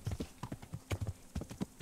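Horse hooves clip-clop in a quick, even rhythm, close and clear, with no other sounds around them, in the video game Kingdom Come: Deliverance.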